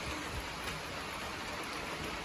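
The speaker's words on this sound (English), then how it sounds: "It is raining" Rain falls steadily outdoors, a continuous even hiss of drops with no voices and no letup.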